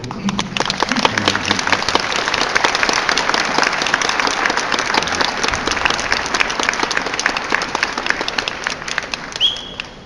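A crowd at a graduation ceremony claps steadily for about ten seconds, a dense, even wash of applause with no talking over it.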